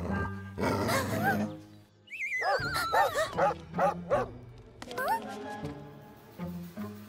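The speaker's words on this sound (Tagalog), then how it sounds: "Oh, isang galit na aso!" A cartoon dog barks and yips angrily in several sharp bursts, some whining tones between, over background music and voices.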